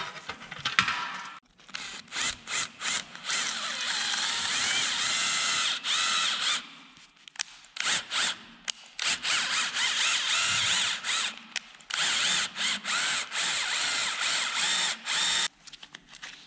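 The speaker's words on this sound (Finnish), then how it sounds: "mä koitan pienellä poraanterällä pyörittää niin tuosta ympäriltä" A small drill bit spins around a rusted bolt on an old trailer in repeated high, whining bursts with short pauses between them, close and fairly loud.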